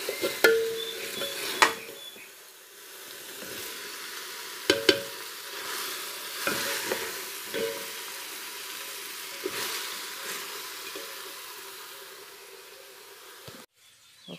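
Food sautéing in a home kitchen pan, a soft sizzle with intermittent stirring and spoon clinks against the pan, fairly quiet and ending in a brief clatter.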